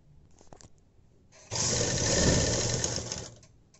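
Sewing machine stitching a fabric sleeve, a steady close whirring run of rapid stitches lasting a couple of seconds after a few faint handling sounds, with no talk over it.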